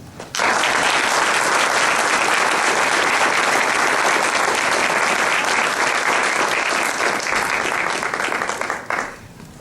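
An audience at a youth awards ceremony claps for youth award winner William, a loud, sustained burst of dense applause that holds steady for several seconds before tapering off quickly at the end.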